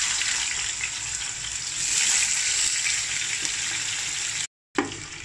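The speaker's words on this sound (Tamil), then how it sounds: "ஸோ இதெல்லாம் கொஞ்சம் ஃப்ரை ஆகட்டும்." Whole cinnamon, cardamom and cloves frying in hot oil for biryani, a steady close sizzle and hiss that runs throughout, broken once by a brief cutout near the end.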